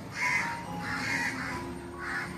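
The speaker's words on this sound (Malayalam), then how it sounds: "ഇവിടെ കാക്കകൾ ഇങ്ങനെ ഇഷ്ടം പോലെ ഇരിക്കുക കേട്ടോ, റബ്ബറിൻ്റെ ഇടയിലൊക്കെ കൂടും വെച്ചിട്ട്." Crows nesting among rubber trees caw repeatedly outdoors, three loud harsh calls spaced evenly over a faint background hum, with no talking.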